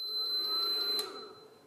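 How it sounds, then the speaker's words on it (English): A fast, steady high-pitched beeping from an Induction Innovations Inductor Max induction heater switching on, over a low electrical hum, stopping after about a second as the hum fades. "the audible beeping sound that indicates the unit is on"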